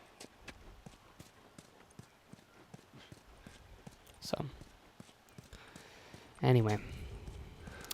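Horse hooves in The Last of Us video game, an even walking clip-clop of steady knocks throughout, with someone talking briefly and a louder snort or whinny near the end.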